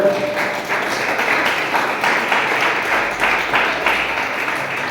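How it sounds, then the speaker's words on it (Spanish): A church congregation applauds the Lord for several seconds in a steady, dense wash of clapping with slight surges, fairly near and loud, with no one speaking over it. "Denle un aplauso fuerte al Señor, hermano."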